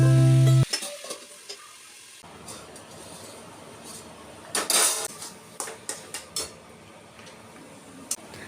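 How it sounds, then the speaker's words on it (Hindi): A loud burst of hot-oil sizzle as a tadka tempering for dal hits the pan in a home kitchen, then scattered stirring and utensil clatters over a low background hiss. "इसे प्लेट लगा के मैं छौंका लगाऊंगी"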